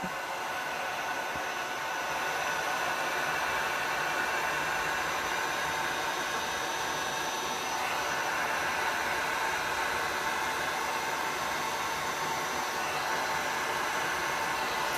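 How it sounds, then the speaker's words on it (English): A heat gun blows a steady, even hiss of hot air across white epoxy resin during an ocean-style pour on parchment. The airflow holds close and constant throughout, with no talk. "I am just using the heat and kind of moving somewhat quickly to just push that resin, push the white."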